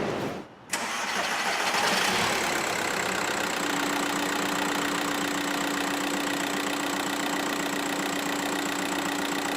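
A Seat Altea 1.9 TDI diesel engine cranks briefly, catches and settles into a steady close-up idle that runs on evenly, with a faint whine over the rumble and no talking.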